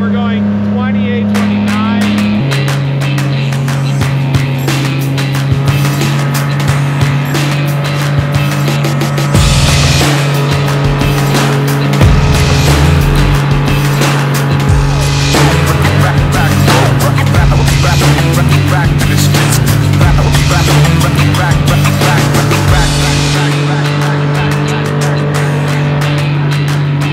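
A new Stryker Pro 420 motorboat engine running at steady speed on a lake, a loud continuous drone with a steady pitch throughout, and a voice talking over the engine noise.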